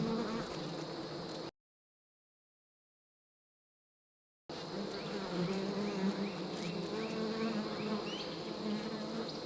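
Honeybees buzz around the outside of a hive in a thick, continuous hum, loud and close, broken by a brief gap of silence before the droning resumes.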